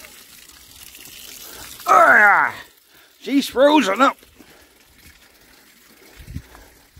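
Water runs out from behind the pulley of an Iveco Daily camper van engine with a major leak, a soft steady trickle beneath a man's brief, loud spoken remarks.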